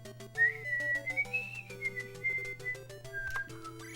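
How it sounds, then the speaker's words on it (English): A person whistles a wavering, sliding tune alone during a baseball simulator speedrun, fairly close and clear over a faint game background with soft clicks. "That whistling makes no sense."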